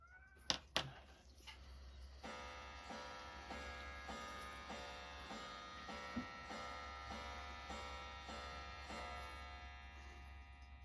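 A cat gives a couple of short meows near a workbench during a Seiko watch restoration, followed by the quiet, even ticking of a clock that continues alone in a still room.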